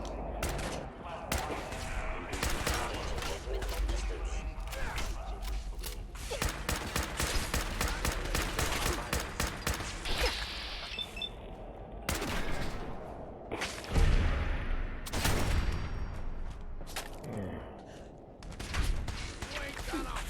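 Sustained gunfire in Fallout 4, with dense rapid bursts and heavy repeated shots that keep up for long stretches, broken by brief pauses, while a voice talks intermittently.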